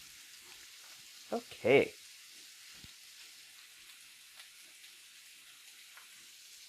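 Beef browning in a pan for beef stroganoff, a faint steady sizzle with a couple of brief louder clatters and a short spoken word near the start.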